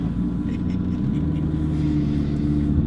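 A McLaren MP4-12C with a twin-turbo V8 idles with a deep, steady rumble heard from close by and loud, with a faint voice in the background.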